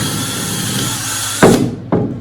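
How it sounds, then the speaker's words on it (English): Power drill in a school workshop boring through a wooden board, a steady loud motor whine that cuts off sharply, then a second short burst of the trigger. "Just drill through the first board"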